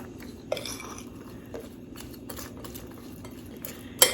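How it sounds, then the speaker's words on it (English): A spoon stirs chicken salad fixings together in a bowl, with repeated close scraping and clinking strokes against the sides and a sharper clank near the end, with no voices. "Mix this together."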